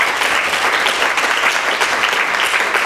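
Audience at a palliative care talk claps steadily, a brief, even burst of applause with no voices over it.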